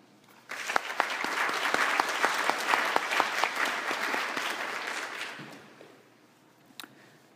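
Church congregation claps together in a dense burst of applause lasting several seconds, then tapering off and fading to quiet with a last stray clap.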